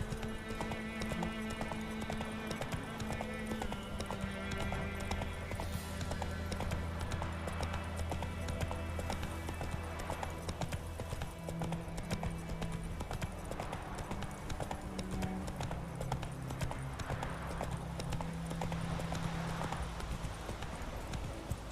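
Roach's hooves clip-clop in a steady walking rhythm throughout, with faint game music and ambience underneath, in The Witcher 3: Wild Hunt.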